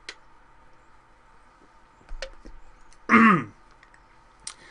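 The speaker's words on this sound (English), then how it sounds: "I have to clear my throat" A man clears his throat once in a short, loud rasp, set between faint clicks and ticks in an otherwise quiet room.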